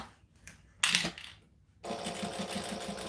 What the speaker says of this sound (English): So I'm going to sew from the top here.